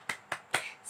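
A class of tenth-grade students does the tepuk semangat cheer, three sharp, evenly spaced claps heard close and fairly loud, with no talking.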